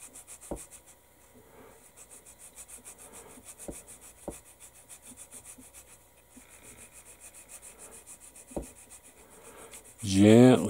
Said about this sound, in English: Gently sanding.